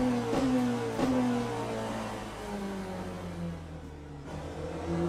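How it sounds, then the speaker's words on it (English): A race car engine in the Le Mans Ultimate sim, held in second gear on the Circuit of the Americas, revs steadily with a rising and falling whine and a couple of sharp shifts, loud and continuous with no talk. "The second gear just helps it stop revving out."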